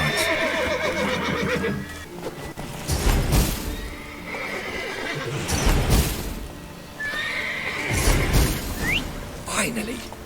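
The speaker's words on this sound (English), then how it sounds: "Gotta calm all the horses before they wake the guards." Horses whinny loudly several times, close by, with hooves clopping and shuffling between the neighs, in the video game The Witcher 3: Wild Hunt.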